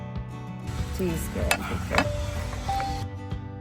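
Cheesy pasta being stirred and heated in a pan on the stove, with a soft sizzle under a spoon scraping and a few clinks against the pan, close and steady.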